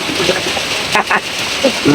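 Heavy rain falls steadily and loudly as a dense, continuous hiss that fills the whole stretch, with a few brief splashy bursts on top.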